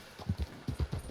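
A red Arabian horse in Red Dead Redemption 2 clops along with quick, evenly spaced hoofbeats that are soft and low, about a dozen in a second.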